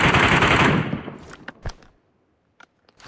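Gunfire in PUBG Mobile from behind: a loud, dense burst of automatic shots that fades out, then a few scattered single cracks separated by near silence.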